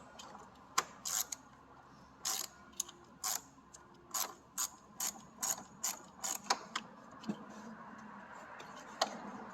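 A ratchet with an 8mm socket loosens a bolt during a Ford Escape repair, giving a series of about a dozen evenly spaced, crisp ratcheting clicks, close and clear over a low background hum.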